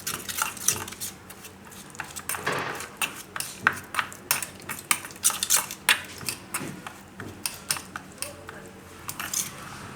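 Dudhi besan dhokla batter being mixed with peanut oil in a metal bowl, a rapid run of close clinks, scrapes and wet stirring taps repeating throughout.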